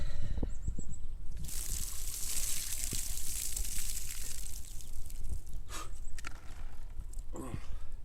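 Water is poured out of a bucket for an ice bucket challenge, a burst of splashing and sloshing after a quieter start, with a few more splashes near the end.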